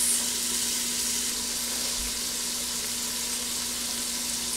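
Garlic and leeks sizzling with pancetta in a Ninja Foodi, a steady even frying hiss with a faint low hum underneath and no voices.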